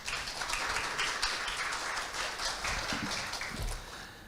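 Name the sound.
audience applause welcoming a speaker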